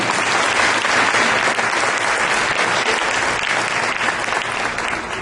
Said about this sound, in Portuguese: Pode aplaudir Jesus então? Dá para aplaudir?